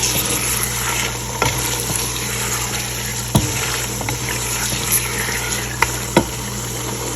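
Chicken fries in a pan for curry, giving a steady, soft sizzle under a constant background hum, broken by a few sharp clinks and scrapes of stirring.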